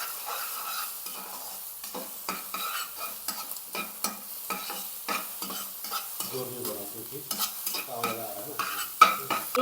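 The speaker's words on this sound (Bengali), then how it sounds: "যতক্ষণ না ডিমটা গোল্ডেন কালার হয় ততক্ষণ আমরা এইভাবে ভাজতে থাকবো।" Egg is stir-fried and broken into small pieces in a pan, with a spatula scraping and tapping in quick repeated strokes over a soft, steady sizzle, close and clear.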